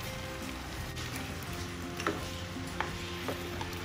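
Shrimp and cauliflower cook in butter and garlic in a pan, a continuous close sizzle with stirring scrapes and a few sharp ticks; no one talks.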